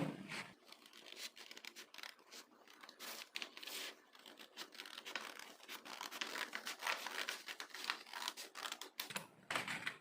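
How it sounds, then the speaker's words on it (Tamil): Scissors snip and crunch through blouse fabric as a round neck is cut, with steady close crisp cutting and crinkling of cloth throughout, no talking. "நம்ம வட்டக்கழுத்தை கட் பண்ணுறோம்"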